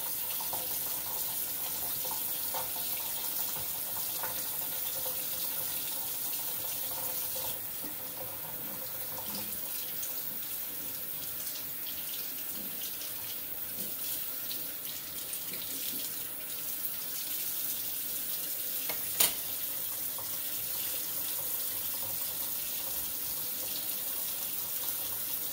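Tap water runs steadily into a sink while a harmonica reed plate from a Seydel Symphony is rinsed, a close, continuous splashing flow with slight changes in tone and one brief sharp click near the end.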